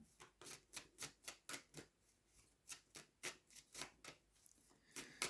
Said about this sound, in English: as I started shuffling this deck